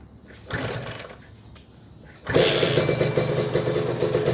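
A Kawasaki Ninja R motorcycle engine starts up and runs at a steady, loud, close idle with a fast throb that carries on to the end, after a few quieter mechanical clicks and knocks.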